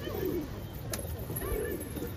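Pigeons coo softly on a rooftop where grain is scattered, their low calls blending into steady outdoor background noise.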